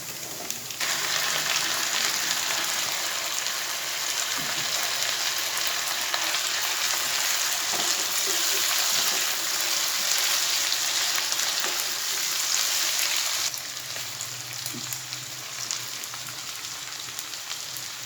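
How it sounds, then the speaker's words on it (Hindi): Chicken frying in a pan with garlic and onion, a steady loud sizzle throughout with a slight drop near the end, no talking. "इसमें जो वो चिकन मैंने बनाया हुआ है वो इसमें मैं ऐड करने लगा हूँ"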